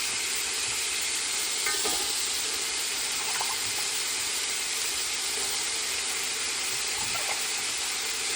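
A spoon stirs vegetables in a cooking pan over a steady, quiet sizzle, with a few faint scraping strokes.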